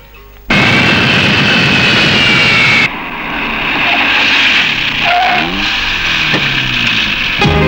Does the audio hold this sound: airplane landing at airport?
yes